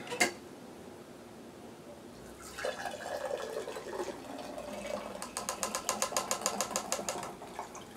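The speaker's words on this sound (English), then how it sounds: "Now we're going to pour from the Nutramilk." Nut milk pours from a Nutramilk machine, starting with a soft liquid stream that builds into rapid rhythmic glugging and clicking pulses near the end, fairly faint and close.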